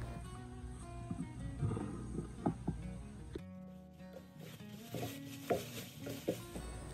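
Ginger and garlic paste being stirred and scraped in a pan, giving soft irregular scrapes and taps over a faint sizzle and background music.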